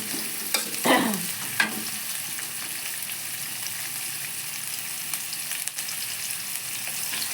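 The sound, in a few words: onions frying and sizzling in a pan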